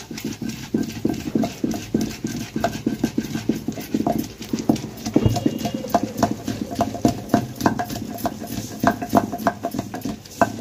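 Rhythmic dull thuds come from chicken masala being pounded by hand in a stone mortar (rolu), steady repeated strikes close by, with no one talking.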